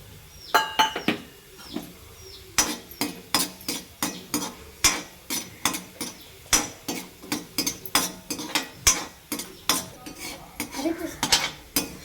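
Asafoetida frying in hot oil while a spoon stirs the pan: a steady run of sharp metallic clinks and scrapes against the pan, close and fairly regular, over a faint sizzle, with no voices.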